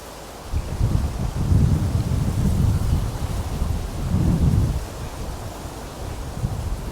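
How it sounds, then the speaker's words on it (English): Wind gusts buffet loudly in low rumbling surges, rising and falling, with a faint rustling hiss beneath. "It's a bit windy."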